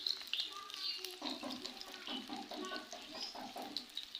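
Aloo kababs fry in a little oil over a low flame, giving a soft, steady sizzle with faint crackles close by.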